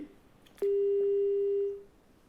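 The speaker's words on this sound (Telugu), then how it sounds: "కళ్యాణి గారి ఫోన్ కట్ అయింది" A single clean, steady electronic telephone tone sounds abruptly after a disconnected call, holding at one pitch for just over a second before fading, with faint line hiss around it.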